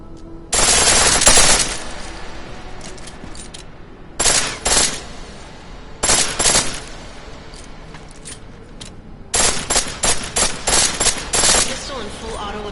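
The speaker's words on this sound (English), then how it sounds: "Pistol in full auto will take down targets fast" Automatic pistol fire in Deus Ex: Mankind Divided, several loud rapid bursts of full-auto shots separated by brief pauses, close and dominant.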